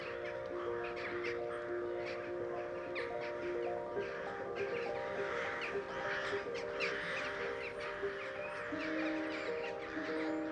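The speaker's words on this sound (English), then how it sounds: "Crows, they're super abundant in man-made landscapes." Crows caw repeatedly over a steady bed of tonal hum, the harsh calls fairly close and recurring throughout.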